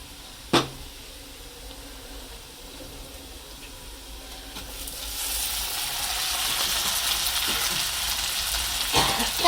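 Brinjals (eggplant) sizzle steadily as they fry in a pan, a sharp crackle opening and the hiss swelling louder and denser midway through, with faint stirring knocks.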